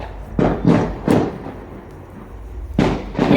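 Firecrackers burst in a series of sharp, loud bangs, three close together, a pause, then two more, each ringing out briefly.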